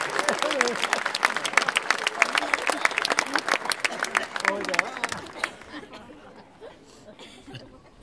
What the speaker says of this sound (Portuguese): Palmas, irmãos